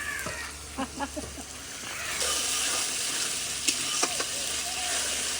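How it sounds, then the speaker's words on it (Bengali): Spice masala fries in oil, a close, steady sizzle broken by a few scraping stirs, and it grows louder and denser partway through. "মশলা ভালো করে কষানো হয়ে গেছে এই যে মশলায় তেল ছাড়ে দিচ্ছি"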